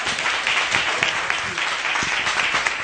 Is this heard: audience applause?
yes